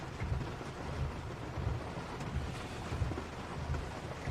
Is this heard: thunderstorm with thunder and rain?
yes